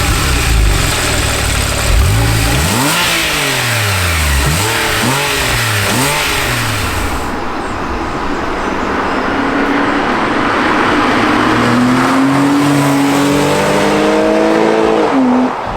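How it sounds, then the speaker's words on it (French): A Porsche 997 flat-six engine revs loud and close, climbing through repeated rising sweeps, then settles before building again with steady engine roar. "on a quand même un beau bruit de flat 6."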